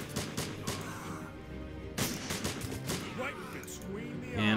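Battle noise from Blitzkrieg 3, a World War II strategy game: dense rolling gunfire and heavy artillery booms, steady and moderately loud throughout, with stronger blasts at intervals.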